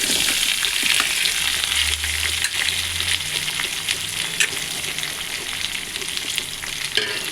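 Boiled raw plantain frying with curry leaves in a pan, a dense continuous sizzle with a ladle stirring and scraping through it, close and steady with no voices.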